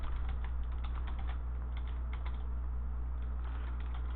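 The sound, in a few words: typing on a computer keyboard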